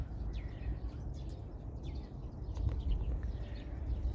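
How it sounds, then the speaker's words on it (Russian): Birds chirp faintly and sparsely outdoors on a snowy May day, the brief calls scattered over a steady low rumble of background noise. "Поют птицы"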